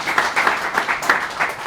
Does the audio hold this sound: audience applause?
yes